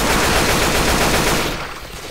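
Rapid AK rifle bursts in Left 4 Dead 2, a dense, loud, continuous rattle of automatic gunfire that fades off at the end.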